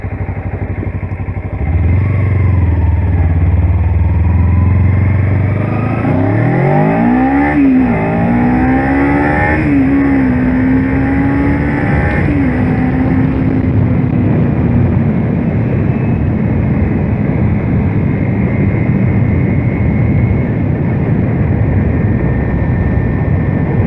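A motorcycle revs hard and accelerates up close, its engine pitch climbing in repeated rising sweeps before it settles into a steady, loud drone as the ride continues.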